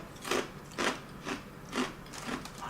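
Close, crisp crunching from chewing a crunchy Malaysian fried fish snack, about five evenly spaced bites in a steady rhythm.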